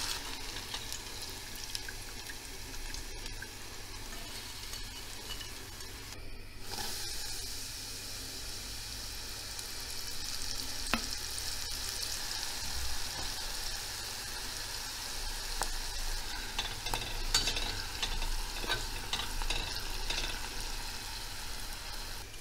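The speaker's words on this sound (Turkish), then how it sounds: "Çok çabuk kızarıyor arkadaşlar. O yüzden dikkatli olalım." Onion slices frying in oil for crispy onion chips give a continuous loud bubbling hiss that swells slightly over time, with occasional faint clatters and no speech.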